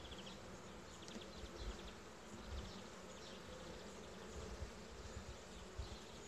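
Honeybees buzzing on a hive frame during inspection of an aggressive colony, a soft, dense, continuous hum with no voices.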